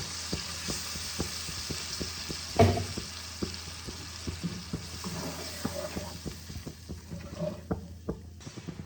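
Water poured into spiced masala frying in a pan for an egg and potato curry, giving a steady close sizzle with repeated scraping stir strokes and a louder splash partway through.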